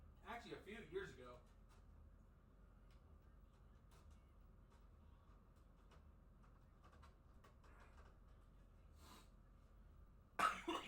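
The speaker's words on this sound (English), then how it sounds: "I hate this goddamn cough, man." A man coughs in a short burst of harsh, close coughs at the start during a casual gaming stream, followed by quiet room tone with small clicks and another loud cough-like burst near the end.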